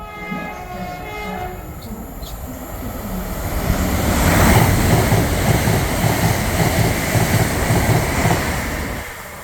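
An Avanti West Coast train from London Euston to Liverpool Lime Street, seen at Nuneaton on the West Coast Main Line, rushes past with a loud, building roar. A brief horn sounds early on, and the rumble holds steady before easing off at the end.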